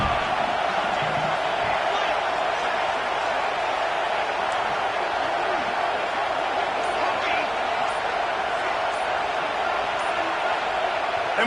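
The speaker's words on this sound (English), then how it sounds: "This crowd rising up, sensing that its defense needs some help." A stadium crowd at a football game roars steadily and loudly as it rises up to help the defense, with a continuous dense wall of cheering and a commentator talking over it.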